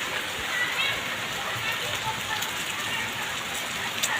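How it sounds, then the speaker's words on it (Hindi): The first monsoon rain of Ashadh falls as a dense, even hiss of drops on surfaces, steady and fairly close throughout, with a few sharper drips standing out. "आज पहली बारिश हो थे ना"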